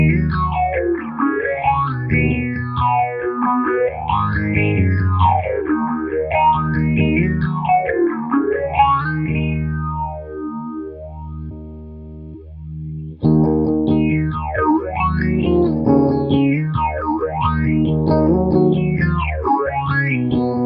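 Electric guitar through a Boss phaser pedal set to mode 2 gives slow, deep sweeping swells over distorted chords. It plays loud and alone, with a short pause before the strumming restarts.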